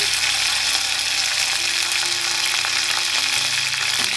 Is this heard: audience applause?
no